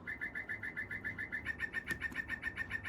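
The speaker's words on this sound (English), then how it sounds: "My bird clock from 1997." A 1997 bird clock chimes a rapid, evenly pulsed electronic bird call, faint and steady over a quiet room, with a single brief knock partway through.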